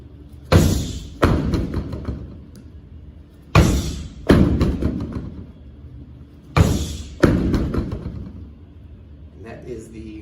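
Martial arts round low kicks land as heavy thuds, three pairs of strong impacts spaced about three seconds apart, close and loud with a low hum between strikes.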